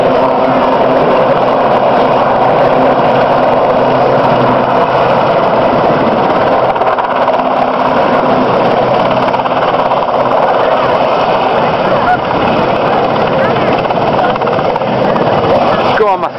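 A Sea King helicopter on display at the East Fortune air show, its loud, steady engine and rotor roar droning continuously and close for the whole stretch.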